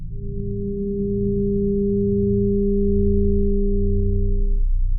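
Two steady pure tones an octave apart sound together as one sustained interval, flat and unwavering, before cutting off near the end, over a low hum.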